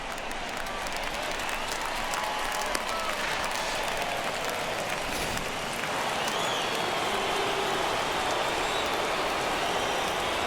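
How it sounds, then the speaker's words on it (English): Steady, dense rain pours down at a ballpark in a MLB The Show 21 game, Giants versus Rockies, a continuous broad hiss with faint crowd murmur underneath and a commentator's voice over it. "the rain starting to intensify here. It's coming down a little heavier now"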